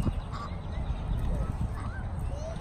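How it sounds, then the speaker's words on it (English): Geese honking at a pond, several short nasal calls from a few birds scattered across the moment, fairly close, over a busy outdoor background with faint voices. "they are geese, so I gotta watch out for them."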